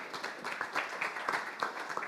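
An audience at a luxury travel general managers' panel forum applauds steadily, a moderate-level wash of overlapping claps heard from a distance.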